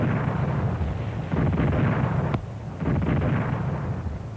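Artillery barrage fire in a wartime battle, a continuous loud rumbling roar of massed guns and explosions with surging bursts and a sharp crack near the middle.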